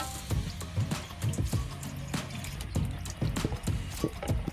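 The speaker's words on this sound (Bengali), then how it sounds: "ময়দাটা আমি এইভাবে ভালো করে জল দিয়ে জল দিয়ে ধুয়ে নেব জলটা ঢেলে নেব" Wash water being poured off wet flour dough in a bowl, with uneven splashes, drips and trickles in a close, irregular run and no talking.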